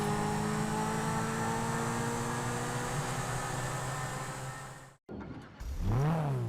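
A Zentorno supercar in GTA Online starts up and revs repeatedly, a sustained loud engine howl cut off abruptly, then a short burst of rising and falling revs after a brief gap.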